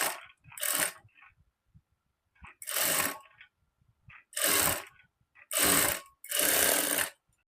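A sewing machine stitching a blouse for maggam work runs in five short, loud bursts of whirring, each roughly half a second to a second long, separated by quiet pauses.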